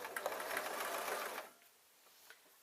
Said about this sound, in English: I'm going to lay it flat so that I'm now sewing the top.